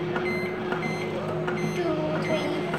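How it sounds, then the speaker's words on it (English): Microwave oven beeping as it is set to a four-minute preheat in a home kitchen, a few short electronic tones over a steady hum, close and moderately loud. "So I'm gonna set the microwave for 4 minutes preheat and let's see."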